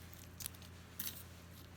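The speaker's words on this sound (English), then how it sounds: "I'm gonna cut this rubbery stuff here." Scissors cutting rubbery material beside a jar of thrift-store jewelry, with two brief soft snips close by over a quiet hum.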